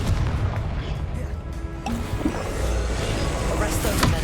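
Confringo blasting spell exploding in Hogwarts Legacy, heavy booms and crashing bursts over a constant low rumble, with a sharp crack partway through and further impacts near the end.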